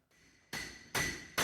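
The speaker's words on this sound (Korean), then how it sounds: "소방대원이 못과 망치로 굳게 닫힌 문을 내리칩니다." A firefighter strikes a locked door with a nail and hammer, giving three loud, separate impacts about half a second apart, each ringing briefly over a quiet background.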